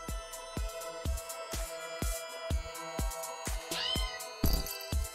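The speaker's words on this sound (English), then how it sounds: "I have a feeling this kitten is asking us to help him out." A small kitten, hot under a shelter, gives a rapid series of short, insistent meows in a regular rhythm. The cries are close and fairly loud, with no talking.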